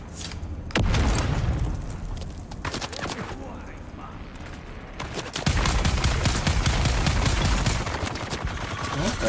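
In the Dune: Awakening video game, bursts of rapid gunfire crackle close and loud, broken by a short lull and then a heavy explosion followed by sustained automatic fire.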